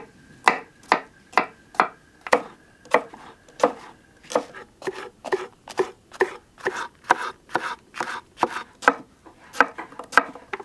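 A knife chops onions, peppers and garlic for relish on a cutting board, a steady series of crisp close thuds repeating about twice per second with no talking.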